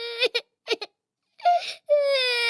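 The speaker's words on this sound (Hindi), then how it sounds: "अरे ये रोने की आवाज किसकी है?" A cartoon girl wails and sobs inside a broken-down hut, in short choked bursts followed by two longer drawn-out cries, loud and close with silent gaps between.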